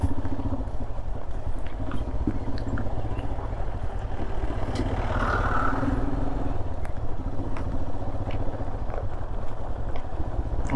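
A Royal Enfield Himalayan carrying luggage rides along a road, its engine a steady rumble under continuous wind and road noise. The sound is close and unbroken, with no talking.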